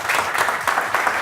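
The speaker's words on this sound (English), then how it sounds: "Big round of applause, please." An audience at a startup pitch event claps for a short burst, a busy patter of many hands with slight swells, cut off after just over a second.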